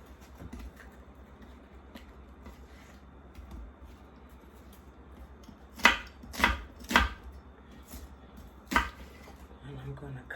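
An onion is chopped on a cutting board during home cooking of curry chicken: a few sharp, close knife strikes in quick succession, then one more after a pause, over faint room noise and a running fan.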